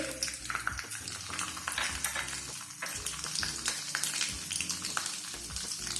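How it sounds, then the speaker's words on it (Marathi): Mustard seeds and cumin hit hot oil for a Maharashtrian phodniche varan tempering, giving a dense, steady sizzle and crackle with scattered pops and a few stirring scrapes, close up and with no talk. "आता तेल गरम झालेलं आता त्याच्यामध्ये मोहरी त्यानंतर जिरे"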